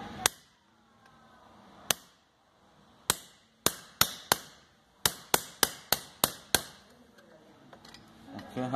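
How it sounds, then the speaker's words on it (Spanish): Sharp, loud metal strikes of a hammer driving a punch and chisel against a car steering wheel part, irregular at first, then a quick run of evenly spaced blows, close and ringing. "Ok, vamos ahora sí otra vez con el cincel. En el punzón, ¿verdad? Más bien este es un punzón."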